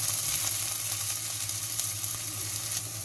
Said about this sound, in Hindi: प्याज को हम अच्छी तरह से भून लेंगे।